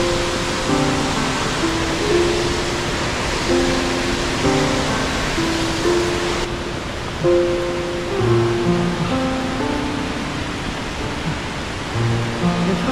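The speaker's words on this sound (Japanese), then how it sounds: "轟音とともに流れ落ちる滝の水、思わず心を奪われてしまう迫力です。" A waterfall in a remote gorge along the Watarase Valley railway pours down in a constant, loud, broadband roar, with steady music playing over it and no pause.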